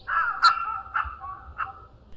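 A red spurfowl gives its loud, harsh rising call, repeating in a series of grating notes that rise and fade, close by with no talking.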